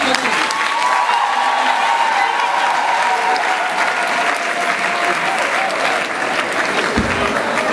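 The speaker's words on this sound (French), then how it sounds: "Applaudissez davantage." Audience at a student ceremony applauding, a loud, sustained wash of clapping from a large crowd, with faint voices and a held tone underneath, tapering slightly before a final thump.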